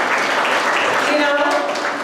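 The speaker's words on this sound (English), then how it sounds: "Give their applause." Applause from an audience at a college lecture hall, a dense, steady wash of many hands clapping at moderate distance, continuous throughout without pauses.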